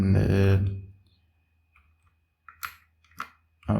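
A few sharp, separate clicks of keys on a computer keyboard, close and moderately loud, following a stretch of talk that fades into quiet.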